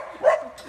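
A single dog bark at an animal shelter, one short mid-pitched yelp near the middle of a brief, otherwise quiet stretch.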